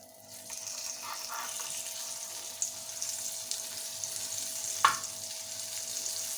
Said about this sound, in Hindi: पार्सल को पकड़ेंगे, इसके ऊपर रख देंगे, लो फ्लेम पे हम इसको पकाएंगे